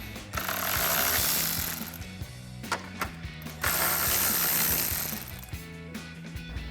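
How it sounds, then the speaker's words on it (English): Ratchet with a 10mm socket loosening bolts on a 2018-2020 Ford F-150 grille, rapid close clicking in repeated bursts with a few louder metallic knocks between strokes. "And then a 10mm socket to remove our 2 bolts."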